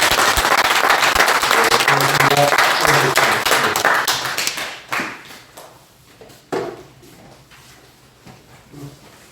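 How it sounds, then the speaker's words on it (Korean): A church congregation in a New Zealand Korean church bursts into loud, dense applause that holds for several seconds, then thins into scattered claps and dies away. "축복하는 마음으로 박수를 드리겠습니다."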